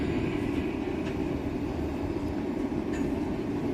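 A Docklands Light Railway train bound for Bank rumbles past nearby, a steady low roar of wheels and motors on the track with faint rattles above it.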